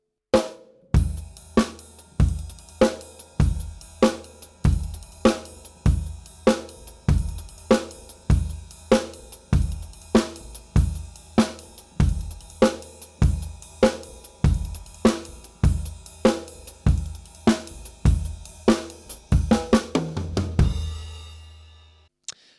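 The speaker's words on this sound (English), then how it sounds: "just a few ideas on how we can use the 7-stroke roll on the drum kit." A drum kit pattern of quick seven-stroke snare rolls with kick hits, repeating in a steady groove about once a second, loud and close, ending in a crash.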